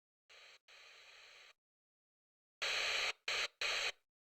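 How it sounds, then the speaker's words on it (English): Bursts of pink noise from a synthesizer: two short blasts, a pause, then three louder bursts cut off sharply, each ending abruptly. "I'm going to use pink noise, not white noise."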